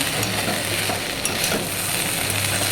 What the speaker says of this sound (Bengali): দেখাচ্ছি আলু ভাজা করছি